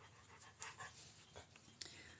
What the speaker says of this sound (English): that's my huffy dog you hear in the background